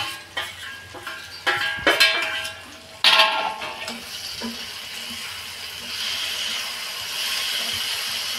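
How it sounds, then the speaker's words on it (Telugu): Fried bitter gourd pieces being stirred into masala in a pan on the stove, with soft scraping and clatter over a steady low sizzle, plus a brief splash of running water; no one talks. "ఇప్పుడు మనం వేయించి పెట్టుకున్న కాకరకాయలు అయితే ఏవైతే ఉన్నాయో అవైతే ఇంకా వేసేసి మిక్స్ చేసేయండి బాగా"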